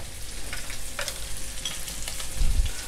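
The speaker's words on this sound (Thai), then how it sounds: "ผัดให้หอมๆเลยนะตรงนี ้" Fish maw stir-fried in a wok crackles with a dense, steady sizzle, punctuated by scraping stir strokes and a heavier clatter of the spatula near the end.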